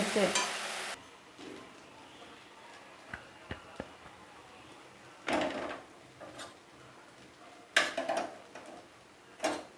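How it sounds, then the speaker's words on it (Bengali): Taro stolons frying in a pan, with intermittent bursts of sizzling as they are stirred, separated by quieter gaps and a few sharp utensil clicks against the pan. "লতিটা নাড়াচাড়া দিতে"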